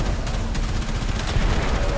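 Dense gunfire from Warframe during a Railjack mission, with rapid overlapping shots and bursts rattling continuously at steady loudness for two seconds.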